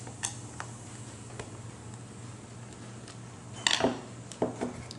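Small tools clink and tick against metal while short threaded screws come out of a BAK Rion hand welder with a T20 driver, faint light taps early on, then a brief cluster of louder metallic rattles near the end.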